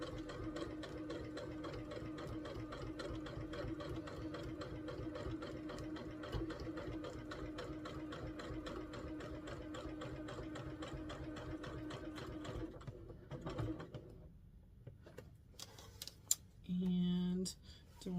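A sewing machine stitches seams on a pumpkin table runner in a fast, steady mechanical chatter for about thirteen seconds, then stops, followed by quiet handling noises and a short burst of speech near the end.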